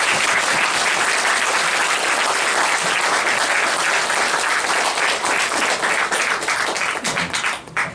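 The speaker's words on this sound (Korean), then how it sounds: "모든 성도님들에게 우렁차게 감사의 박수를 드리겠습니다" A church congregation bursts into loud, sustained applause, many hands clapping together in a dense, even roar that holds for several seconds before it begins to thin out.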